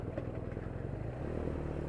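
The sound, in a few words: BMW R NineT Urban G/S motorcycle exhaust while cruising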